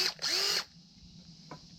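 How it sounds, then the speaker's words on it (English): Hammer drill briefly running in a forge workshop, a short revving whir that spins up and cuts off after about half a second, followed by quiet and a faint click. "Got a hammer drill right here because experience has told me I need the extra torque."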